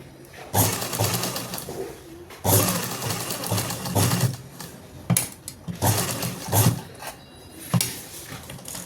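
A sewing machine stitches a side pocket into a kurti in several loud bursts, each running a second or two and separated by brief pauses, close to the listener.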